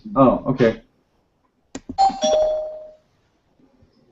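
A doorbell-like ding-dong chime rings out, a sharp strike followed by a ringing tone, after a person speaks briefly.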